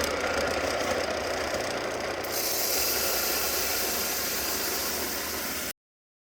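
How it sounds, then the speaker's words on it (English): A grain mill coarsely grinding wheat for a Hefeweizen, giving a steady, loud mechanical roar with gritty noise that runs evenly for several seconds and then cuts off abruptly. "first step to making our Hefeweizen is to grind our wheat"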